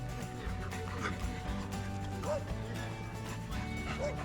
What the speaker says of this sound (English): Oh, cute pup.